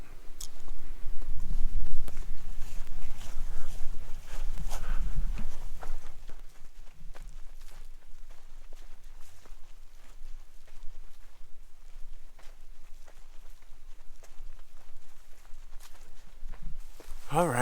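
Footsteps crunch along a trail in Maplewood State Park, Minnesota, at a steady walking pace, louder at first and then softer, close to the listener.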